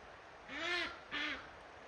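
Two loud, raspy duck quacks in quick succession, close by, with a short pause between them and quiet background otherwise.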